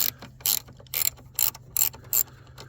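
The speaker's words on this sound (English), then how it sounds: "ratcheting wrenches are awesome" A ratcheting wrench turning a bolt on a junkyard Saab 9-5, five evenly spaced bursts of rapid clicking, close and crisp, with quiet pauses between strokes.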